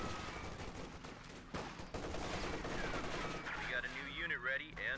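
Automatic Tommy gun and BAR fire in a Company of Heroes 2 battle, steady bursts of gunfire through most of the stretch with a sharper crack near the middle, mixed with shifting game effects.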